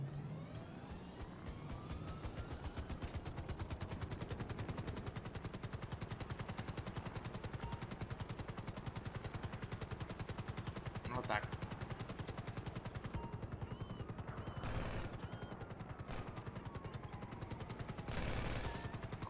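Uzi machine pistol fire in GTA Online, heard from inside a Maverick helicopter: a long unbroken stream of rapid shots runs throughout, loud and even, with faint engine noise under it.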